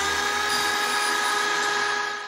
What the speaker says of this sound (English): I just cut my first piece of maple plywood